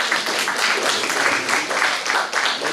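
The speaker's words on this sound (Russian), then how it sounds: "Встречаем аплодисменты Марию." An audience at a public discussion about reconstructing Izhevsk's central square applauds to welcome a speaker, with thick, sustained clapping from many hands at a steady, moderately loud level.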